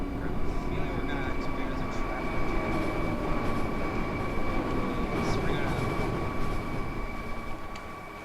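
A Minecraft train rolls along steadily, producing a continuous dense rumble with faint sustained tonal hums over the whole stretch and no pause.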